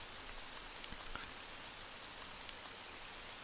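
Rain falls steadily in the video game Labyronia RPG as a soft, even hiss of drops across the whole stretch, quiet and continuous, with no voices.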